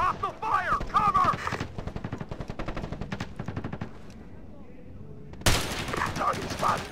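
Rapid automatic gunfire in the video game Ghost Recon Advanced Warfighter, sustained bursts of shots that stop for a quiet moment before another loud volley erupts, with a voice heard briefly over the shooting.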